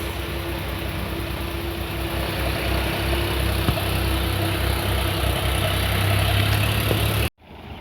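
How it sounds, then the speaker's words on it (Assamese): A tractor engine ploughing a field runs at a steady, rumbling idle close by, a continuous low drone that stops abruptly near the end. "এইফালে এইখন ট্ৰেক্টৰখন গৈছেগে"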